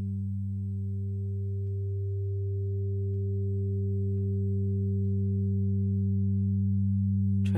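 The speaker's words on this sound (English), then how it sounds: "Sine waves have no timbre" Pure sine wave tones hold steady and smooth, several low pitches sounding together as a constant sustained drone, gradually swelling slightly louder, with a faint higher tone above and a brief click at the very end.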